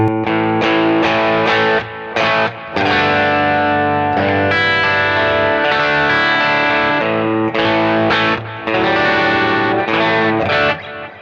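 Electric guitar through a Benson Preamp overdrive pedal with a Bluesbreaker-style tone, playing chords and short riffs, loud and gritty with a warm, slightly crunchy tone, brief pauses between phrases.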